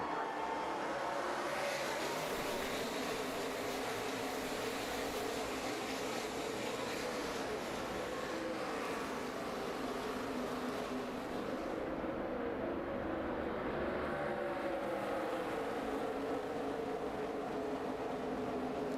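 Stock race cars roar into turn one on the first lap of the 2012 History 300, a dense sustained engine drone from a pack of cars, loud and steady with a slight swell midway.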